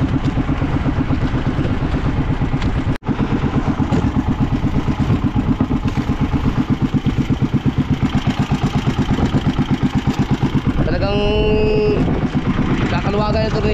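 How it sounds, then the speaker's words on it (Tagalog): A loud, close fishing boat engine chugs in a fast steady rhythm, rattling continuously, with a brief cut early on and a whining tone near the end. "Ang lakas din ng makina na ito"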